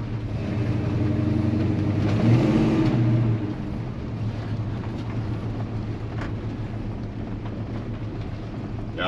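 Loud, rough rumble of a Chevy C-10 truck engine running without mufflers, a steady deep drone that swells briefly before settling into a continuous roar.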